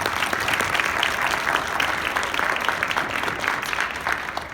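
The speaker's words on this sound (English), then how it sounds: "Let's give them a round of applause." An audience at a youth art walk dedication applauds school principals, a steady wash of many hands clapping at close range that holds evenly throughout with no voices over it.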